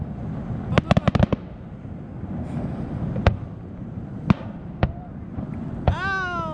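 Fourth of July 2021 fireworks over the water off Hawaii's Big Island, heard from a boat at anchor: a quick cluster of sharp cracks, then scattered distant booms and a rising whistle near the end, over low wind noise.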